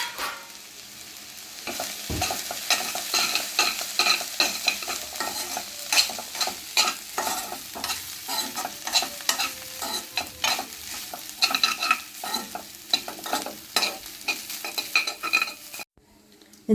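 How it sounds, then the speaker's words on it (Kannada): Cooked rice being stirred into fried rice in a hot pan, repeated close scraping and tossing strokes over a light sizzle, with no voices heard. "ನಾನು ಕುಕ್ಕುಡ್ ರೈಸ್ ಹಾಕ್ತಾಯಿದ್ದೀನಿ. ಇದಕ್ಕೆ ಹಾಕಿದ್ದೀನಿ. ಇದನ್ನು ಚೆನ್ನಾಗಿ ಒಂದು ಮಿಕ್ಸ್ ಕೊಡಬೇಕೀಗ"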